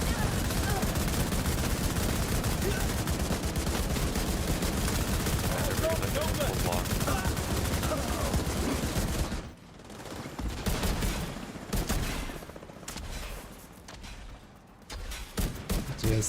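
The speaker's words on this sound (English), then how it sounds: "I'm firing my rifle." Heavy rifle fire in The Division video game, during casual PvE farming, hammers loud and continuous for about nine seconds, then thins into scattered shots and thuds with voices talking over it.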